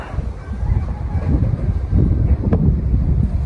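Steady low rumbling monsoon wind buffets the microphone throughout while an octopus kite is flown, gusting stronger in the second half, with no clear voices.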